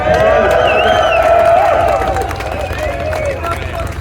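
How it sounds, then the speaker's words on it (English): A meeting crowd gathered for the People's Convoy cheers and applauds loudly for Trucker G, with whoops and overlapping voices over steady clapping that stays strong throughout and eases slightly toward the end. "Can we give a round of applause to Trucker G real quick?"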